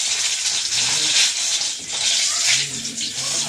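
Pitha frying in oil hisses loudly and steadily, swelling and easing now and then, with faint low sounds from the kitchen underneath.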